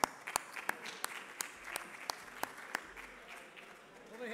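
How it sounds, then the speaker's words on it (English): Sparse, evenly spaced claps sound at a community cricket cup presentation to greet the Bangladesh team, steady single hand claps about three per second over a murmuring outdoor background. "Applause, please, for the Bangladesh team."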